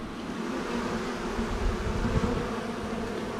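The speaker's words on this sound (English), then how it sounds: "The bees wouldn't even land on me until I washed my leg off." Bees swarm and buzz steadily around an abandoned RV outdoors, a continuous droning hum of many insects at moderate distance with no talking.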